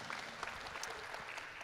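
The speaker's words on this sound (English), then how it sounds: "give yourself a round of applause" Quiet applause from a spiritual science congress audience, a faint, brief patter of many hands clapping, heard from a distance and alone.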